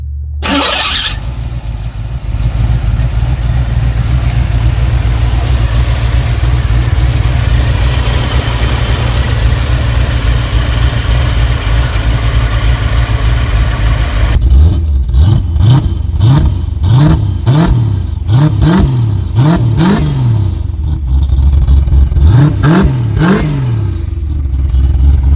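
A Chevrolet C4 Corvette with a carburetor starts and idles loud and steady, then takes a series of sharp revs that rise and fall repeatedly.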